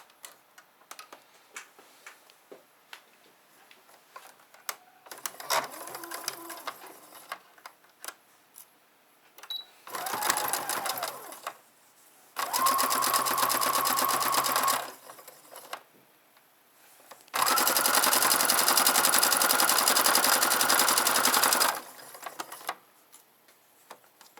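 A sewing machine stitches bags in bursts: faint ticking and handling noises, then several loud steady whirring runs of a few seconds each, the longest near the end, with quiet pauses between.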